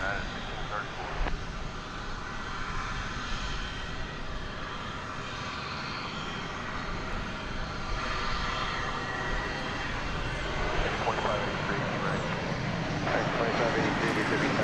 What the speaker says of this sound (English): That's American Flight 1562 arriving from Miami.